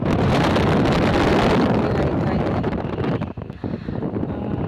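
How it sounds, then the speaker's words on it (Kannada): Loud, blustery wind roars across the microphone, easing somewhat toward the end. "ಅಲ್ಲಿ ತುಂಬ ಗಾಳಿ ಬೀಸ್ತಾ ಇತ್ತು"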